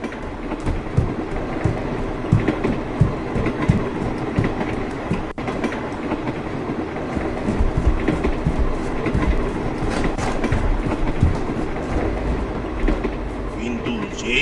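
A running train in a Bengali horror audio story, with steady rumbling and clickety-clack of wheels on rails throughout, loud and continuous, with sounds like a voice faintly beneath.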